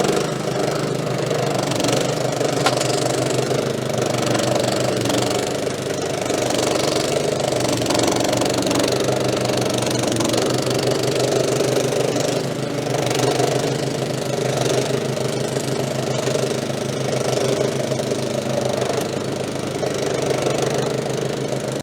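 A petrol-engined lawn scarifier runs steadily and loudly close by, its engine droning with a constant rattling chug that never lets up throughout.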